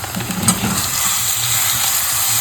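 Spiny gourd (kartule) pieces hitting a hot pan of spiced oil with red chilli powder, giving a loud, steady close-up sizzle with a brief stirring clatter near the start.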